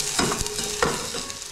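Onions, some finely chopped and some coarsely cut, frying in oil in a pan over high gas heat, with a steady close sizzle and a few louder stirring scrapes.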